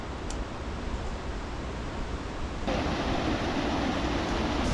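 A rushing river below a via ferrata route in Ouray, Colorado, roars as steady broadband water noise, loud and continuous, growing slightly stronger partway through.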